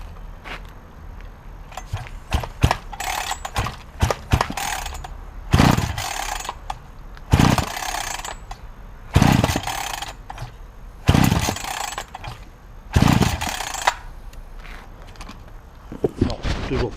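A chainsaw is pull-started over and over without catching after its fuel strainer was changed. Rough, loud bursts of cord pulls and sputtering come at a steady rhythm with short pauses between them, and no engine ever settles into a run.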